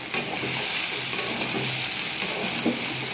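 Vegetable stalks frying in a pan with mustard-ginger paste, a steady close sizzle with light stirring scrapes and occasional taps throughout.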